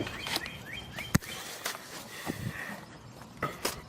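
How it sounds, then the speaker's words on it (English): Birds chirp outdoors on a residential court, small tweets scattered through the clip alongside a few sharp knocks and footstep-like thumps, fairly faint and distant with no speech. "Hear the birds."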